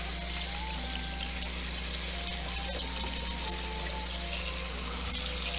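Tap water runs steadily while ingredients for shoyu ramen are rinsed and scrubbed by hand in a bowl, a continuous close splashing hiss with no talk.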